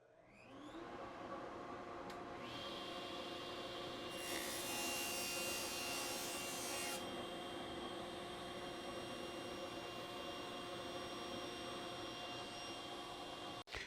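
A table saw blade spins with a steady high whine as scrap plywood is pushed through, a loud bright rasping cut lasting a few seconds before the blade keeps running alone, close by.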